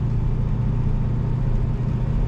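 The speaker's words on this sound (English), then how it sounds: "Now we're in second gear taking this roundabout." 1969 Chevrolet Camaro Z28 in second gear through a roundabout, heard from inside the cabin: a steady, loud, deep engine rumble with road noise, holding an even pitch without talk.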